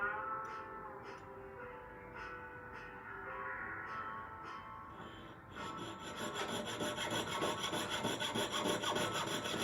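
Steady back-and-forth strokes of a fine jeweller's saw blade rasping through metal while crafting an 18ct gold wedding band, close and continuous, growing brighter and busier toward the end.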